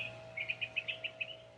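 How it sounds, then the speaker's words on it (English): Birds chirp in a quick series of short, bright notes over a steady low hum, fairly faint and somewhat distant. "I love listening to the birds."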